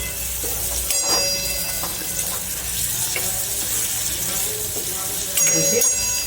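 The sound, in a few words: stirring vegetables in a pan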